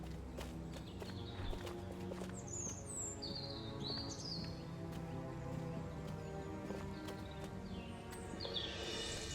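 Small birds chirp in short high bursts within the Destroy All Humans! game world, scattered over steady ambient noise with faint clip-clopping footsteps, fairly quiet and with no one talking.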